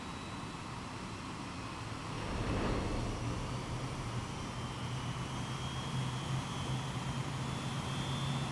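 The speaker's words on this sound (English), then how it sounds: "It's a little plane thingy." A small plane engine in the Xenoblade Chronicles X video game drones steadily at low volume, a soft continuous hum with a faint rise near the start.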